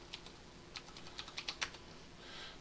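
Keys tapped on a computer keyboard while searching during a Photoshop editing session, about a dozen quick, light clicks in an uneven burst, close and fairly quiet, with no voices.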